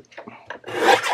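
Paper from a vintage book page is cut, making a short rasping, rubbing scrape that swells louder toward the end of a brief moment.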